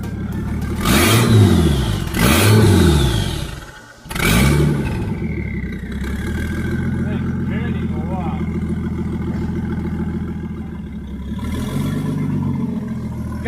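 A car engine revs up and down three times in quick surges, then settles into a steady rough idle with a faint whir, close by, its exhaust not fully fitted.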